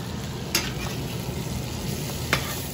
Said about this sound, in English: And now we're gonna flip our fish.